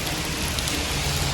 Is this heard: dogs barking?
no